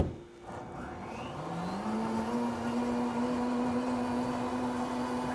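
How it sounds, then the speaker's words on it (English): A blender whirs up to speed blending a protein shake with sprinkles, its motor climbing in pitch then holding a steady loud hum for several seconds, alone and close. "Throw it back in the blender."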